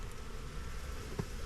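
Honeybees buzzing at a hive in Baybay City, Philippines, a steady close insect drone with no voices over it.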